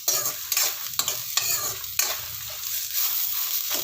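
Cumin and fenugreek seeds dry-frying in a pan, a steady close sizzle broken by several sharp scraping stirs at irregular intervals, with no voices.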